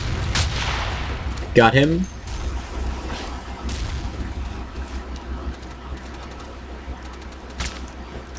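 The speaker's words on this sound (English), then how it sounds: "someone's shooting" Gunfire in the video game Battlefield 2: scattered shots and booms over a low rumbling game background, with a person talking briefly.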